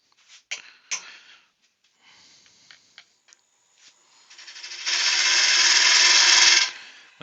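A wooden acorn box is power sanded: scattered knocks and handling noises give way to a loud, steady sanding whir that runs for about two seconds before cutting off.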